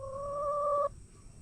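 A single close, tonal call from a chicken lasts under a second, then cuts off, leaving quiet background.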